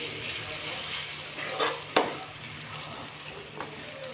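Ginger-garlic paste with turmeric, coriander and cumin powder being stirred in a hot pan for chicken curry, a continuous sizzle broken by a few sharp clinks and scrapes of the spoon against the pan.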